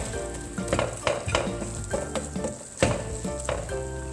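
Spaghetti all'assassina, a Bari dish, sizzles and fries loudly in a pan, with a steady crackling hiss broken by repeated scraping and stirring knocks of a utensil against the pan, close up and without voices.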